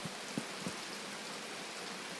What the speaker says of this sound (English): I hate the rain in this game. Can't see anything, can't hear anything.